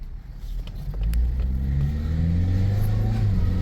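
Car engine revving hard on a road drive, a steady loud low drone with rising harmonic bands as the revs climb through a strained shift while a transmission ratio error fault acts up.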